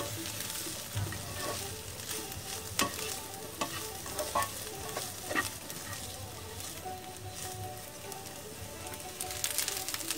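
Onion and potato fry in a pan while being stirred, a continuous close sizzle broken by repeated scraping and knocking strokes of the spoon at an uneven rhythm.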